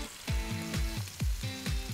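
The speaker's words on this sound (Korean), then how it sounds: "아, 지글지글 맛있는" Meat sizzles on a grill in steady frying noise, broken by a regular series of loud, close hisses and pops.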